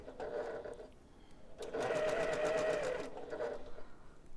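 A sewing machine stitches a quarter circle quilt block in slow, steady bursts, its motor whirring up loudly for a stretch in the middle and easing off at either end, close by with no talking.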